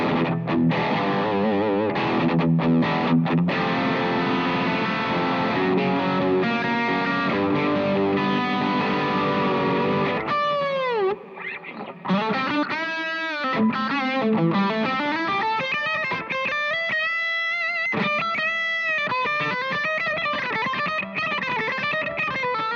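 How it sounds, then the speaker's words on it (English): Electric guitar through a distortion pedal on an ampless pedalboard, starting with sustained distorted chords and notes, then swooping, wobbling feedback tones and pitch bends over a constant low mains hum. "you're going to hear that feedback, that 60 cycle hum"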